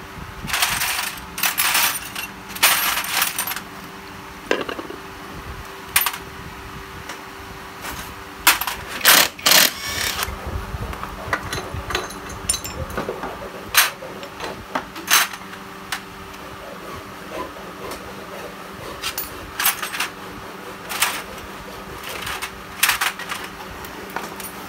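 Sharp metallic clinks and ratchety clicks of a 14 mm wrench opening the pump on an Exciter 155 VVA motorcycle engine being torn down, in irregular bursts, close and fairly loud, with no speech.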